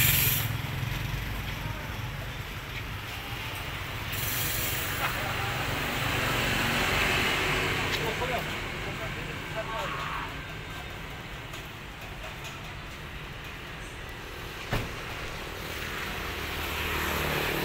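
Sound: bus engine running

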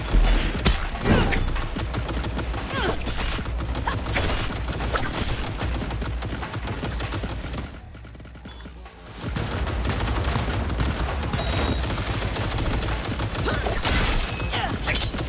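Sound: turrets firing in the video game Cyberpunk 2077 Phantom Liberty

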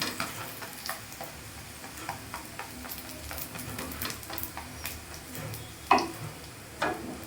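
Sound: carrot holige frying with ghee on a pan

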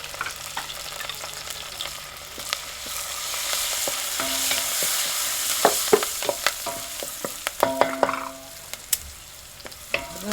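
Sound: curry leaves and asafoetida sizzling in hot oil tempering

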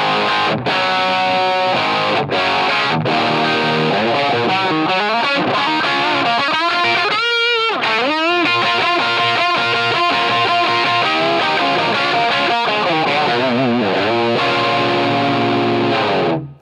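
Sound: unaffected Marshall Origin amp, slightly breaking up

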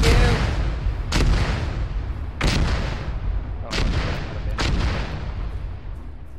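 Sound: incoming artillery fire in the video game Arma

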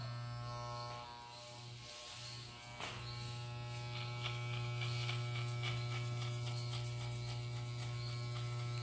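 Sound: electric hair clippers cutting a fade haircut

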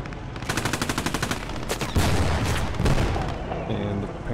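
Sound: tank cannon fire in video game Post Scriptum

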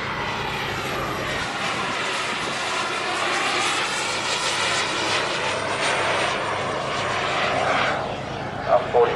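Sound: model RC German fighter aircraft engine flying

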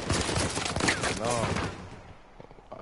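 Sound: gunfire in a 3v3 shooter video game

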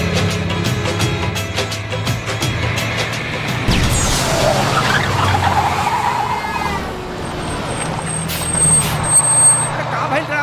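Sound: bus braking and stopping on the road

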